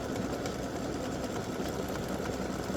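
Embroidery sewing machine running a stitch-out on an in-the-hoop mug rug, a fast, even mechanical whirring that holds steady and fairly quiet throughout, with no one speaking.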